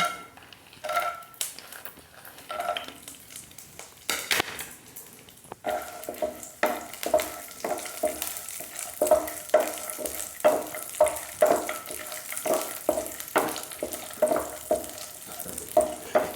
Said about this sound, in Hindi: घी गरम हो गया है तो इसमें ड्राई फ्रूट्स को भून लेंगे।